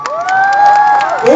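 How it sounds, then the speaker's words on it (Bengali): A crowd at a club event in Chanditala cheers, with scattered clapping and whoops, loud and close, over a sustained musical tone or hum. "তার জন্য একটু হাততালি চালাবো।"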